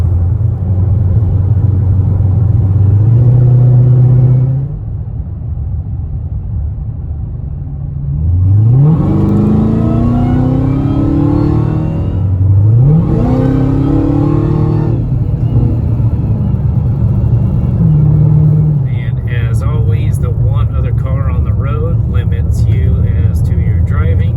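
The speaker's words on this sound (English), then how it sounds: "getting the car warmed up a little bit, letting the oil pump up through it" Dodge Challenger Hellcat Redeye Widebody being driven, its engine rumbling loudly and close, with a few revving rises and shifts through the gears, while someone talks over it.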